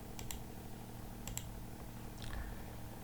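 Keyboard and mouse clicks in CAD drawing software come in short bursts of a few quick taps, then a brief scatter of clicks near the end, fairly faint against a quiet room with no talking.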